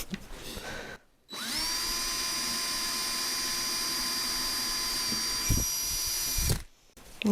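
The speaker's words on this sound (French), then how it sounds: "ça perce bien" A power drill bores steadily during a wood stove installation in a workshop, one sustained whining run of about five seconds that starts abruptly after a short pause, close and loud, with a bump near the end before it stops.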